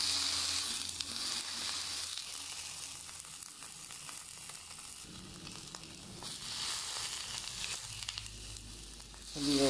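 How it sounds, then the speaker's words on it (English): A pork chop fries in a nonstick pan with no oil, for a cream cheese pork chop with mushroom, giving a steady close sizzle throughout that swells louder at the very end. "we will just fry each side of the pork chop for about 2 to 3 minutes until it's done"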